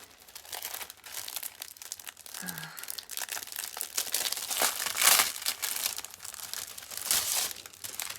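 A drawing stencil is pulled from its plastic packaging with continuous close crinkling and rustling, growing louder in bursts, while a short murmur of voice breaks in partway through.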